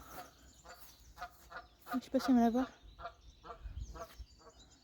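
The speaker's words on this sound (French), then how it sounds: "Il y a des oies." Geese honk loudly in a short burst partway through, while a person talks quietly before and after.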